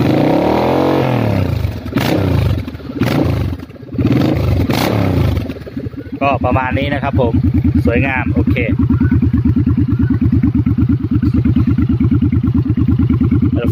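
A Suzuki Boulevard C50 motorcycle with a short full 2-into-2 exhaust system rumbles close by with a deep, steady, throbbing idle. Someone talks over it at first before the engine carries on alone.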